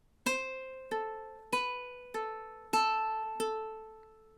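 Measure 22 of the Hawaiian ukulele song "Loke Lani" on a ukulele: six clean plucked notes in a steady lilting rhythm, each ringing out briefly, close-miked and alone.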